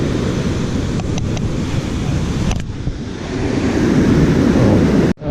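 Loud, continuous ocean surf rolls in at Montara beach, heavy wind buffeting the microphone and the wash swelling toward the end.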